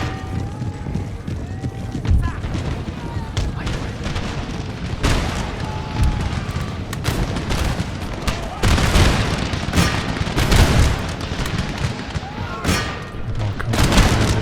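Massed musket volleys crack and boom across an Empire: Total War battlefield as troops close in, dense irregular gunfire mixed with hoofbeats of horses, loud and continuous throughout.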